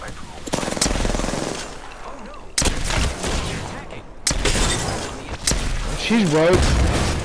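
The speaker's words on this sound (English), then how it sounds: "Getting shot at." Gunfire in a video game: bursts of rapid shots crack loudly in three clusters, each fading into a rumbling tail, with a player talking over the action.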